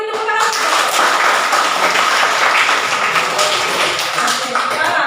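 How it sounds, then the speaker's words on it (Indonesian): Classroom students applauding together, a dense burst of close clapping sustained for several seconds, with a few voices mixed in. "beri tepuk tangan"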